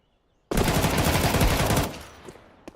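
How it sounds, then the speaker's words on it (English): Sustained burst of SMG gunfire in a competitive Rainbow Six Siege pro league match, loud and rapid for over a second, then fading into softer game sounds and a couple of sharp later clicks. "Ooh, the SMGs, long range, trying something."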